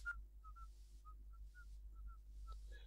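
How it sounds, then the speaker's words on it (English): A whistle solo from the video game Syberia: short, soft whistled notes in an unhurried melody, floating faintly over a steady low hum. "I dig that awesome whistle solo."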